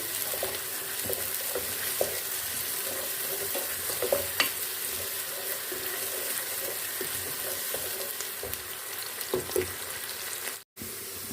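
Onions frying in a pressure cooker for beef pulao, a steady close sizzle with occasional stirring clinks running throughout, no talk.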